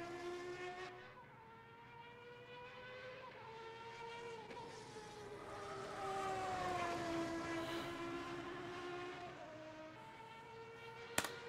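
Racing engine of a car in the sim game Automobilista, a sustained harmonic whine rising and falling through revs and gear changes, steady and fairly loud, with a brief sharp click near the end.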